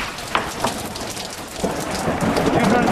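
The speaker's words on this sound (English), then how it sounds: "Not during a thunderstorm." Heavy rain pours steadily outside the Villisca axe murder house during a thunderstorm, with low rumbles of thunder rolling under the downpour and growing louder toward the end.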